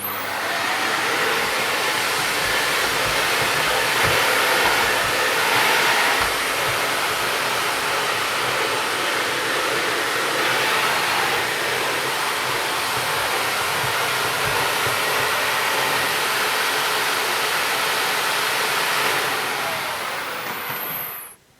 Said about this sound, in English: I can take off the handle and hold the machine as a large handheld cleaner using the built-in handle here